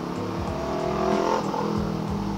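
A Yamaha R3 motorcycle engine passes close by on a rainy road, a brief loud buzzing drone with a rising and falling pitch and no voices.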